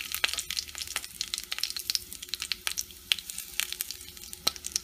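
Cloves, cinnamon stick and curry leaves frying in hot oil, giving a close, crackling sizzle of irregular sharp pops over a soft hiss, with no voices.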